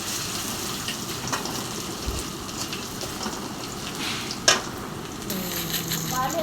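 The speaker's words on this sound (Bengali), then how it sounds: "এখন আমি বোনা খিচুড়ির জন্য সব মশলাগুলি ভেজে নেব" Spices fry in a pan for khichuri, giving a continuous, moderate crackling sizzle with a sharp clink partway through. A faint voice may sit low in the background.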